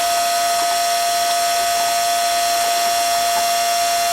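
A BAUER 20-volt electric transfer pump moving water hums with a constant high whine and a hissing, whooshing noise, running continuously.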